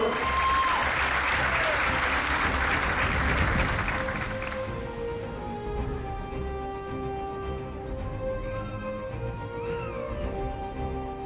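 Crowd applause at an Army basic combat training graduation ceremony at Fort Jackson, a dense burst of clapping that fades after a few seconds into a quieter background with a sustained musical tone.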